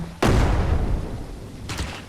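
A loud explosion erupts in the zombie survival game Surroundead, a sharp broadband blast followed by a long rumbling decay, with a second, fainter burst near the end.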